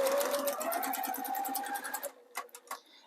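Sewing machine stitching piping closed in a fast, steady run of close needle ticks with a rising motor whine, then a few slower separate stitches as it stops.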